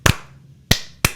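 Three sharp handclaps spaced unevenly, close and loud, in an offbeat pattern imitating the clapping in a music video, with no talking.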